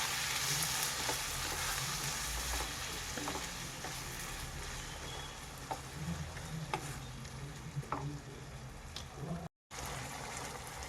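A tomato and Kashmiri red chilli paste fries in a pan, hissing in a continuous dense sizzle with soft stirring scrapes dotted through it, close and steady.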